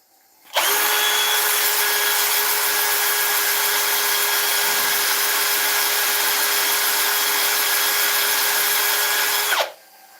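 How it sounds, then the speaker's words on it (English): Ash wood spinning on a lathe is power sanded with 80 grit, giving a loud, steady whirring drone that starts abruptly, holds evenly for about nine seconds, then cuts off, with no talking. "What I'm going to do is you're going to power sand it right in the centre."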